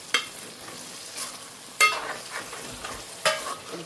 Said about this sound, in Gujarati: ચાલો આપણે મસાલો ફેરવીને જોઈ લઈએ